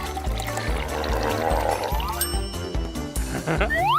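Drink being poured into a cup, a steady gurgling glug with rising pitch as the vessel fills, close and fairly loud with a pulsing backing beat.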